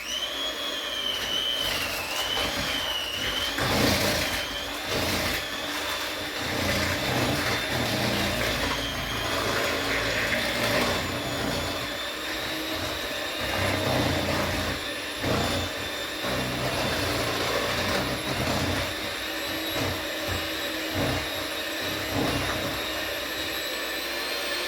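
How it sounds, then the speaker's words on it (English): An electric hand mixer whirs steadily as it beats cream cheese filling for a no-bake strawberry pie, a continuous motor drone that wavers slightly in pitch and runs without a break. "We are going to use this here dreaded mixer that everybody knows I hate."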